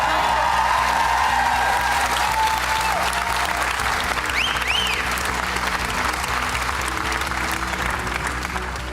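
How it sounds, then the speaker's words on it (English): A talent show audience on Britain's Got Talent breaks into loud, sustained applause mixed with crowd noise and occasional whoops, continuous for the whole stretch. "Everyone will give you a really big round of applause."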